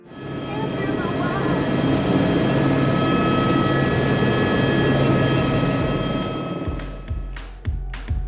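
A helicopter's engine and rotor roar loudly and steadily on a private tour over Zion National Park, a sustained droning whine that eases off near the end as a few thumps break through.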